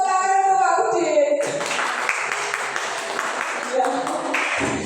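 After a short spoken introduction, a room of teachers at a junior high school applauds Pak Udin, with several seconds of close, even clapping continuing to the end.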